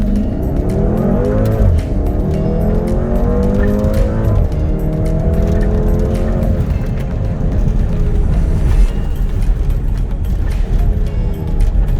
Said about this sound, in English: he just used that launch control and took off that all-wheel drive